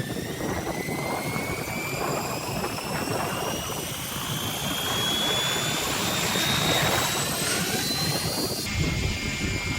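An RC helicopter, a Protos 380 or Specter 700, spools up its rotor at the flying field with a steady loud whine that rises in pitch, droning continuously over outdoor rush before cutting off sharply near the end.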